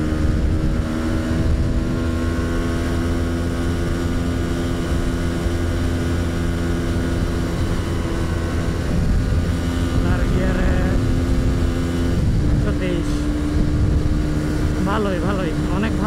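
A GPX 250R motorcycle engine drones steadily throughout a ride test, its sustained harmonic tone shifting slightly under throttle, with wind rush and someone talking over it.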